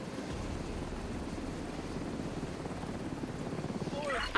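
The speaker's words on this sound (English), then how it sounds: "Can I get to the chopper?" A video-game helicopter's rotor thumps in a quick, steady pulse, faint and distant, holding an even chop for several seconds with a slight swell at the end.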